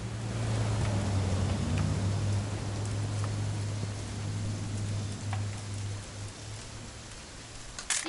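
Steady rain pours in the What Remains of Edith Finch video game, a dense, even hiss of drops with a low rumbling undertone that eases slightly toward the end, with no one speaking.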